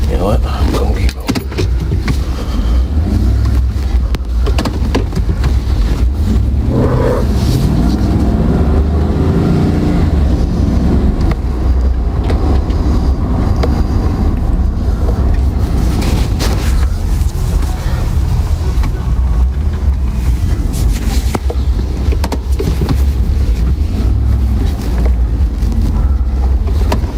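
Car driving fast, a continuous loud roar of engine and wind buffeting with a heavy low rumble, steady throughout and with some faint voices mixed in.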